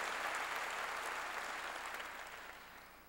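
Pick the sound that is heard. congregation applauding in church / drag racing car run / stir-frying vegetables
congregation applauding in church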